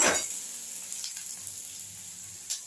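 Food frying in a pan in a home kitchen, a steady soft sizzle with a faint clink of stirring near the end, with no talking.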